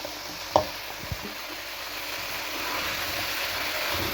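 Zucchini drops into a pot for a vegetable soup with a couple of quick knocks, then settles into a steady, close frying sizzle as it is stirred, with no one speaking.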